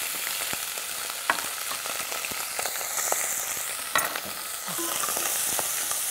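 Abalone stir-frying in plenty of sesame oil in a stainless steel pot, a continuous hiss and sizzle broken by sharp clicks and scrapes of stirring.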